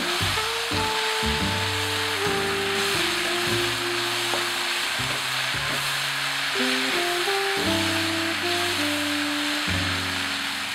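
Chopped onions seasoned with pepper and nutmeg frying in a pan and being stirred, giving a steady, loud sizzling hiss under background music.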